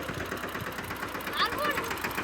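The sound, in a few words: mini tractor engine running in field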